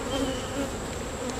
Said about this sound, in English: There's definitely a good amount of bees